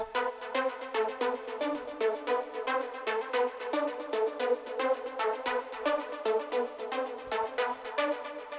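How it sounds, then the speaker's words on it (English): The Nexus dance lead preset Lead Commerce plays alone in an amapiano production, a bright synth sounding short, evenly spaced rhythmic stabs in a steady repeating pattern at an even, fairly loud level. "So it's a dance leads from Nexus, and it's called Commerce."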